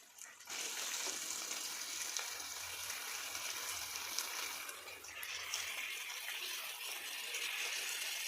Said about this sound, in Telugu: ఇప్పుడు బాగా కడిగిన చికెన్ ముక్కలని వేసుకుంటున్నాము.